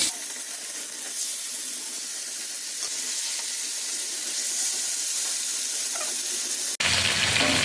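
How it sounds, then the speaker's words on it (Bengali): Chicken pieces frying in a frying pan on a stove, a loud, steady hiss that holds evenly throughout, then cuts off abruptly and resumes briefly near the end. "এখন আমি চিকেনগুলো ভেজে নিব। তো তার জন্য চুলাতে একটা ফ্রাই প্যান বসিয়ে দিয়েছি। এখন চিকেনগুলো দিয়ে দিচ্ছি।"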